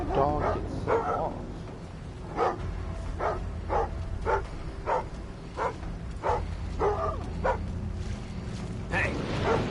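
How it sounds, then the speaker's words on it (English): Dog in the video game Thief (2014) barking a steady series of repeated woofs at moderate distance, over a low ambient hum, while someone talks now and then. "Why did the dog get set off?"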